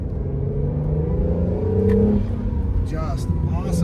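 Acura NSX pulling away hard from a launch-control start, a loud steady engine roar with rising pitch, overlapped by someone speaking.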